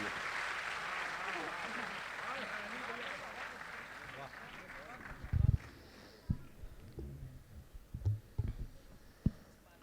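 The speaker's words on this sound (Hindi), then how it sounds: "मैं चाहता हूं सारा सदन एक बार हाथ खड़े करके तालियां बजाए आदरणीय सुरेंद्र शर्मा जी के लिए" A hall audience at a Hasya Kavi Sammelan comedy poetry gathering in Kurukshetra gives sustained applause for poet Surendra Sharma that gradually dies down, followed by scattered thumps and handling knocks.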